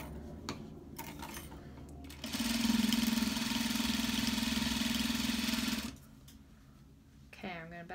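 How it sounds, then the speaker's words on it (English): A sewing machine back stitches the corners of a clutch wallet: one loud, steady whirring run of about three and a half seconds, close by, between quieter stretches with handling noise and a voice speaking. "I'm going to add some back stitching right on the corners"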